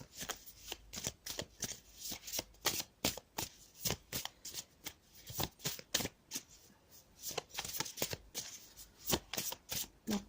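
Tarot cards being shuffled by hand during a cartomancy reading, a steady run of crisp riffling slaps and soft flutters close up, with no talk over them.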